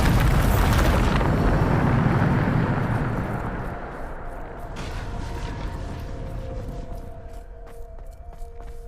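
The Bombarda explosive spell in Hogwarts Legacy goes off as a loud, booming blast right at the start, then rumbles and fades into a lingering low roar with clanking debris.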